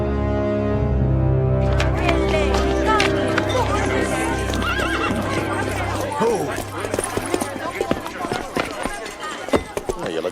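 A horse whinnies loudly and at length, then its hooves clip-clop in a quick, uneven run close by, with a low musical drone underneath.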